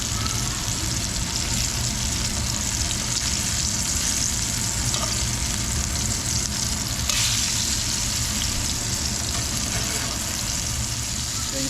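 Scup (porgy) fillets, bloodline cut out, fry in a hot pan with a steady, dense sizzle that holds evenly throughout, loud and close with no pauses.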